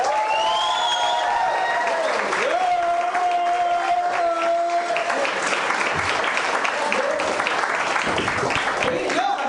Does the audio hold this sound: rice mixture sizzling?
no